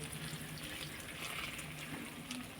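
Water being poured onto puffed rice to soak for upma in a home kitchen, a soft steady trickling splash that runs evenly throughout at low volume.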